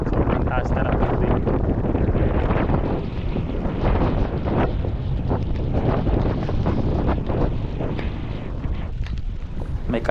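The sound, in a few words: strong wind at Calamba Baywalk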